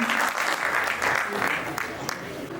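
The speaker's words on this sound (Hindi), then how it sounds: "तो तालियां थोड़ी और जोर से होनी चाहिए थी, जितनी ऊंचे स्वर में इन्होंने गाया।" An audience claps for a singer at a stage event, a continuous burst of applause filling the hall, fairly loud and steady with a voice speaking over it.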